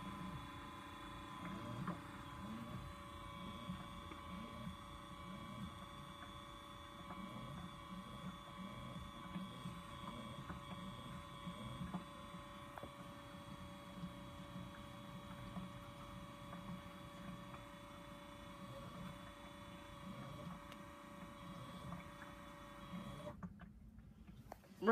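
An LG Turbo Wash mini front-loading washing machine hums steadily with a faint mechanical whirr and quiet tumbling, low and constant throughout, then stops abruptly at the end.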